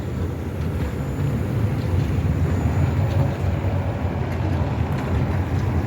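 A Swiss-built route 1 tram rolls along Copernicus Street in Lviv with a continuous low rumble and steady mechanical drone, fairly loud and close throughout.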